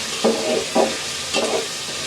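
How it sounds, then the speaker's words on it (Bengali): Three short scraping stirs over a soft, steady sizzle of potatoes and onions frying in a pan. "পেঁয়াজের সাথে আলুটা ভাজা ভাজা হয়ে যাবে"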